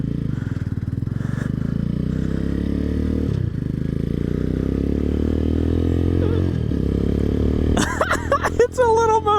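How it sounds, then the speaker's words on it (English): Small Venom X22R 250cc motorcycle engine idling steadily and loud up close, with a rough low drone and brief dips, then some clattering and rustling handling noise near the end. "It's a little motorcycle."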